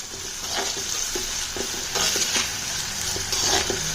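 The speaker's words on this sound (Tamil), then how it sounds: "வெங்காயம் லைட்டாக கோல்டன் ப்ரௌன் வர்ற அளவுக்கு வதக்கி வச்சுக்கோங்க." Onions sautéing in a pan toward light golden brown make a continuous close sizzle, with repeated scrapes and taps of a spoon stirring against the metal.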